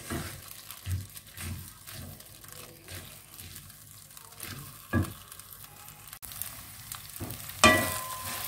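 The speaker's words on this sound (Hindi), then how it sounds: "इसको अच्छी तरह से मीडियम आंच पे पकाएंगे ताकि ये गोल्डन, हल्की सी पीली पीली सी हो जाए" Semolina is roasted in a pan over medium heat for a sugar-free halwa, with intermittent scrapes and stirs of a spoon over a faint steady sizzle, close by and fairly quiet.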